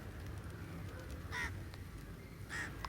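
Crows caw at Elliot's Beach in Besant Nagar, Chennai, in the early morning, two distinct calls a second apart over a steady low rumble of wind and surf.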